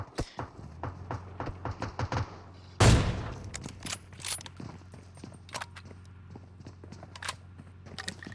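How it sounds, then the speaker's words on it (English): A rapid scatter of sharp gunshot cracks with one louder blast, continuing as irregular distant firing over a steady low hum, in a mobile battle royale game played on BlueStacks. "I heard some gunshots, but seemed to have stopped immediately after."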